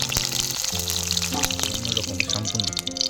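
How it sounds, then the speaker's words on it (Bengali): Onions frying in hot oil for a Bengali puti fish pulao, a soft steady sizzle with light stirring, while a person talks over it with sustained tones. "পেঁয়াজ ভাজা হয়ে গেছে"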